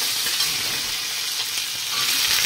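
A tadka sizzles hard in a pan with kasuri methi, green chillies and chopped coriander leaves, a dense, steady, loud frying hiss with no talk over it.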